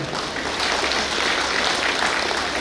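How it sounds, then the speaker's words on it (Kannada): An audience applauds honoured achievers at a gathering, dense steady clapping for a few seconds at close to moderate distance, with no talk over it. "ಎಲ್ಲರೂ ಕೂಡ ಈ ಸಾಧಕರಿಗೆಲ್ಲ ಒಂದು ಚಪ್ಪಾಳೆ ತಟ್ಟಿ ಅವನು ಗೌರವಿಸುವನು"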